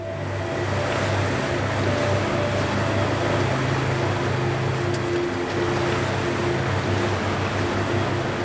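A cruise ship sailing through icy Antarctic waters, with a steady low engine drone and the constant wash of water and wind along the hull, continuous and fairly loud with no voices.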